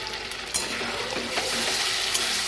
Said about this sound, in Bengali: এবার আমি বাটা মশলাটাতে দিয়ে দেবো।